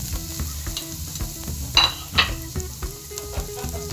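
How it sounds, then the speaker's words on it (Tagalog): Onion, garlic and ginger sauté in oil with a close, crackling sizzle, broken by a few sharp metal clinks of a utensil against the pan, with no talking. "ayan saluwaluin lang natin para magisa yung ating mga sangkap"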